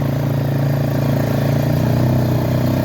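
Quad bike engine running steadily at a low, even drone, loud and close throughout, without clear revving or talk.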